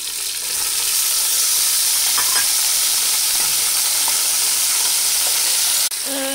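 Potatoes frying in oil for a Pakistani biryani: a loud, steady hiss of sizzling across the whole stretch, with a few faint clinks of stirring, ending in a brief knock.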